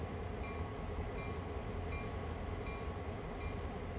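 In Train Sim World 2020, a simulated train runs with a faint, steady rolling rumble and a few light periodic clicks. No one talks.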